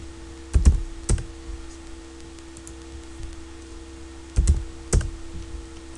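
Keystrokes on a computer keyboard while drafting software has a dimension value typed in, arriving as two short pairs of taps separated by a pause, close and fairly loud over a faint steady hum.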